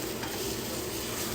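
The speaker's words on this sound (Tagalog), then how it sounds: "Magluto tayo ng pancake" Pancake batter cooks in a hot pan with butter, a steady close sizzle running without a break and no talking.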